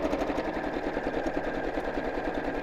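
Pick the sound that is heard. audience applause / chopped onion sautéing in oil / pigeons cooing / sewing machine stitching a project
sewing machine stitching a project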